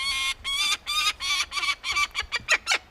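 A bird handled in falconry gives a rapid series of loud, close, repeated harsh calls, about a dozen bursts over three seconds that get shorter and quicker toward the end.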